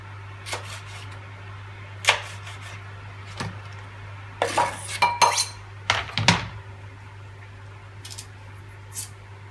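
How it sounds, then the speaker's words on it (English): A knife cuts through a hot pepper on a hard surface, giving a handful of sharp clicks and taps, with a busier cluster of chops in the middle over a steady low electrical hum. "I'm not gonna use a lot of pepper, so I'm gonna just cut it in half"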